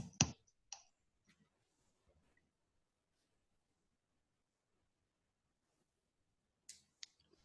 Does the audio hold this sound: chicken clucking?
no